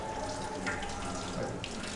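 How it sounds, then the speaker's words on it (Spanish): Cold water is poured in all at once during a vapor-pressure and boiling demonstration, making a steady rushing, splashing gush like a running tap, moderately loud and continuous for two seconds. "Echale todo el agua fría."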